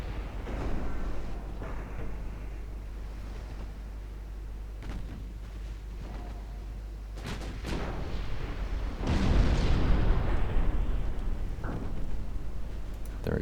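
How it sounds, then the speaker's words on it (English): Warship aft turret guns firing in a 1910 naval battle in Ultimate Admiral Dreadnoughts, a distant rumbling barrage of booms and muffled blasts under a steady low roar, swelling louder toward the end. "I'm gonna turn a little bit more broadside for to get that aft turret firing"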